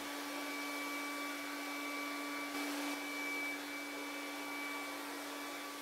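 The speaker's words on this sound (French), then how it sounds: "Je mets le sèche-cheveux aussi en position rapide, car il faut aller jusqu'en haut de la toile." A hair dryer runs on its fast setting, blowing wet acrylic paint across a canvas for a Dutch pour. The steady, moderately loud motor whine and airflow hold without pause, with no voices.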